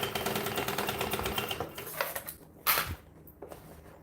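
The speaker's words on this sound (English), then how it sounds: "So much easier with a walking foot machine." A walking foot sewing machine stitches steadily with a rapid, even mechanical chatter, then slows and pauses with a couple of brief bursts near the end, close and clear with no talk.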